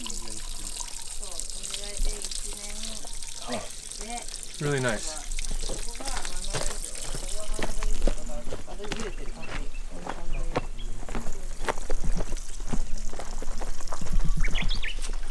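Spring water piped into a permaculture center pours and trickles steadily, a continuous splashing flow under frequent close talking, with birds calling faintly in the background.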